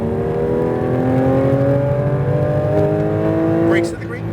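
Strong, close engine note from a Porsche 992 GT3 RS accelerating on the Speed Vegas track, its pitch sweeping upward in one sustained pull before easing off abruptly near the end.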